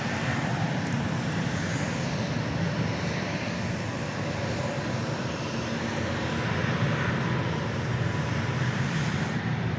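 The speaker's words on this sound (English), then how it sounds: "A Spirit aircraft has just passed us by. This one's going to Los Angeles. It's an Airbus A320neo." A Spirit Airbus A320neo passing at an airport, heard as a steady broad jet roar that stays loud and even throughout, with a faint breeze and no voices.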